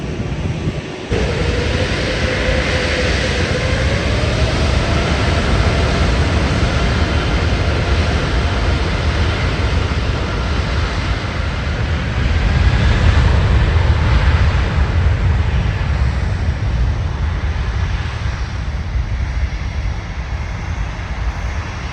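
An EasyJet airplane takes off at Manchester Airport with a loud, sustained engine roar. A rising whine threads through broadband rumble that swells around the midpoint and stays strong throughout, with no voices.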